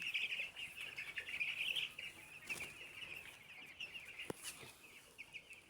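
Broiler chickens raised on a farm without antibiotics cluck and chirp at a distance, a faint ongoing flock chatter with an occasional flutter of wings.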